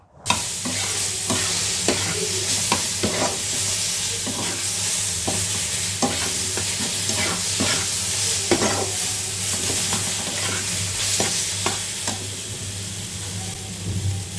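A small amount of ground pointed gourd paste frying in a pan, a constant close sizzle broken by regular scraping strokes of a spoon stirring it, with no voices.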